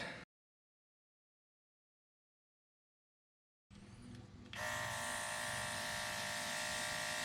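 An airbrush sprays paint onto resin dice with a steady close hiss that starts after a silent gap, quieter at first, then stronger and continuous once the flow is increased.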